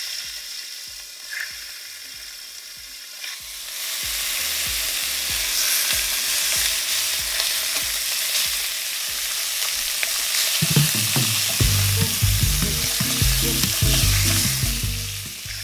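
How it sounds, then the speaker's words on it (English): Short ribs brown in a hot pan with olive oil. A few light clicks come first, then a loud, continuous close-up sizzle swells and carries on, with heavier pan clatter breaking in near the end. "now we're gonna place our short ribs in there and brown them on both sides"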